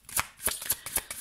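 Oracle cards are shuffled by hand, a quick run of four or five crisp riffling bursts up close in an even rhythm.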